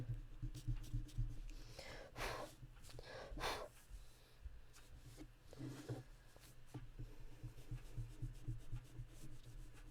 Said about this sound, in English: Rub those lines out.